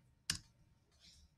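A computer keyboard gives one sharp, close click, followed a moment later by a fainter soft keystroke while a password is typed into a Kali Linux terminal.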